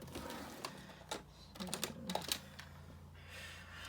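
Stampin' Up snail adhesive being rolled onto card makes a run of quick clicks and short scraping ticks, quiet and close, with nobody speaking.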